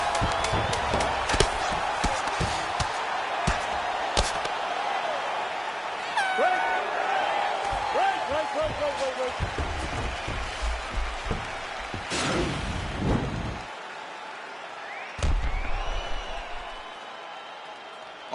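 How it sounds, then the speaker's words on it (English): Arena crowd in the UFC 4 fighting game cheering and applauding between rounds, a loud rolling roar with swells and claps, sharp bursts and slams across the scene, and fading near the close. "the crowd voicing its appreciation after that crazy sequence in the previous round"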